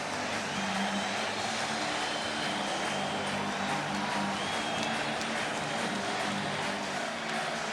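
A Madison Square Garden crowd roars at a 1994 NBA Finals Knicks home game, a dense, steady wall of cheering and noise that holds at full volume throughout with no break.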